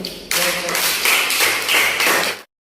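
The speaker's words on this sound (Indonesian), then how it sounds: "kita berikan tepuk tangan dulu" A school class clapping hands together in a classroom, a loud, dense round of applause lasting about two seconds before stopping abruptly.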